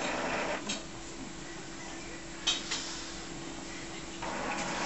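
Epson BX300F printer powering up and running its start-up routine with no cartridges fitted, giving a steady mechanical whir with a few soft ticks and clunks, fairly quiet and heard alone.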